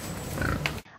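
A domestic pig grunts in a short, close burst of low, rough snorts that continue for most of the moment, then cut off into silence.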